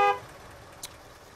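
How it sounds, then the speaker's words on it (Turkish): A single short car horn toot sounds at the very start in a video game with gas station and street traffic, then fades into faint background ambience. "Mal gibi basıyorlar ya kornaya"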